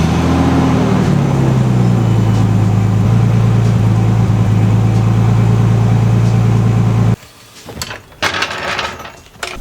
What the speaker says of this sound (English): now we're just going to start the car